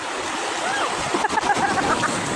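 Ocean surf washes onto a beach under rough, agitated sea conditions, a broad roaring wash with a brief splashing surge midway, fairly loud and close, with faint voices mixed in.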